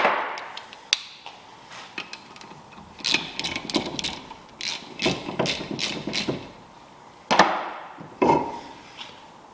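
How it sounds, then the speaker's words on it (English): A ratchet winds an M8 bolt in to pop a brake disc off a Mazda MX-5 NB during a big brake conversion: clustered sharp metallic clicks in uneven bursts, close and fairly loud, with louder clanks near the end. "So winding an M8 bolt, do it up with a ratchet, disc pops off, really easy."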